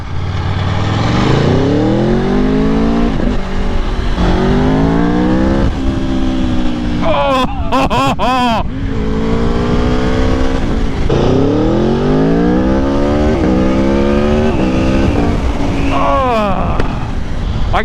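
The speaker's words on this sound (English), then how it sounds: "I accelerated relatively hard, and the front wheel barely came off the floor" An Aprilia Tuono V4 Factory hyper naked motorcycle accelerating hard out of a tight corner, its loud close engine rising in pitch through repeated gear shifts, with brief drops between gears, over steady wind roar.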